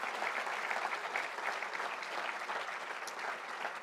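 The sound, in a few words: audience applause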